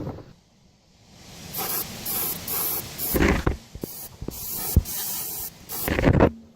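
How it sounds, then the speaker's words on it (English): Bursts of hissing spray from an aerosol can of expanding foam during car rust repair, several short and longer blasts with pauses between, fairly close, plus a few knocks and handling clatter. "I'm going to spray all down inside of here as much as I can with fluid foam"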